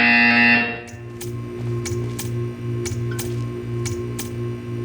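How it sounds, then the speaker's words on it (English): A repeating electronic buzzer from the video game Portal 2 pulses steadily about twice a second over a low hum, following a brief louder tone at the start. "You will hear a buzzer."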